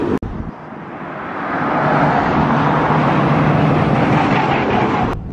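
Cars pull away from a Fast Fords meet at a Cheshire drive-it-day gathering, a loud continuous roar of passing traffic and engines that swells after a brief opening and holds steady close by.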